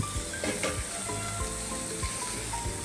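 Ground masala paste roasts in a pan for Maharashtrian whole masoor amti, giving a quiet, steady sizzle and frying hiss broken by soft scraping stir strokes at an irregular pace.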